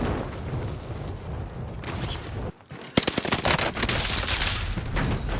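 Heavy sustained automatic gunfire with booming impacts in the video game Call of Duty: Modern Warfare, loud close bursts that stop briefly, then resume as dense rapid shots.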